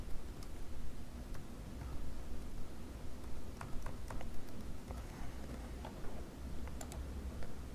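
Typing a company tax ID on a computer keyboard: soft, irregular key clicks in short bursts over a low background hum, close by, with no talking.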